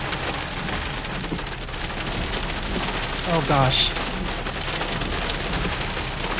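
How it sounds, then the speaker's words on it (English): Rain pours steadily with hail during a March thunderstorm around Stockton, California, a broadband wash throughout with a brief louder burst midway, while a person exclaims over it. "Look at all that hail accumulation."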